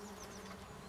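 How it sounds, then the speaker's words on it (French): Solitary bees buzz at their nesting holes, making a close, steady, insistent drone that fills the whole second with no talk over it. "les abeilles solitaires, elles vont dedans directement, elles vont vite."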